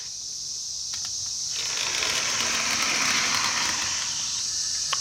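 An AHM Santa Fe HO scale model locomotive runs along its track, giving a steady, close mechanical whir and buzz that builds after a quiet start and holds at even loudness, with faint clicks early on and no voices.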